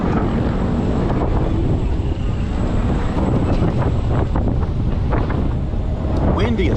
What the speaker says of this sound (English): Windy as hell.